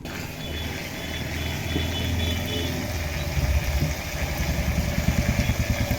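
A machine churning butter from curd runs steadily nearby, a low motorised hum and churning rumble that grows into a faster rhythmic thudding toward the end, with no voices.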